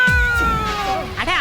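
A cartoon cat lets out a long, drawn-out meow that bends in pitch, loud and close, with a brief voice coming in near the end.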